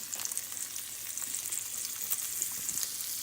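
Shrimp hitting a tablespoon of hot bacon grease in a pan give a steady, bright crackling sizzle throughout, with small pops scattered over it and no talk.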